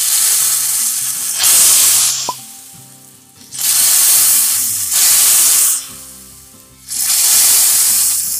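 Yayla soup is poured carefully into a pot in four separate bursts of loud, splashy hiss, each lasting about a second, with quieter gaps between them and soft tonal sounds underneath.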